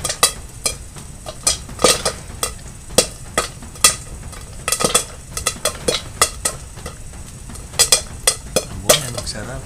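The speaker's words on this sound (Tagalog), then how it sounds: "galaw-galaw ko lang yung kawali" A kawali being shifted and stirred during home cooking, with repeated sharp metallic scrapes and clanks of utensil on pan in an uneven rhythm over a soft frying hiss.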